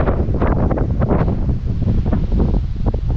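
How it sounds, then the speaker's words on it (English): Strong wind buffeting the microphone on a cold, open beach beside a lifeguard tower and volleyball net, with a loud, rough, gusting roar and faint surf underneath, no voices. "It's windy, it is cold."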